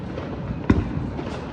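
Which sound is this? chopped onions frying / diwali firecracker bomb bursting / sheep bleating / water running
diwali firecracker bomb bursting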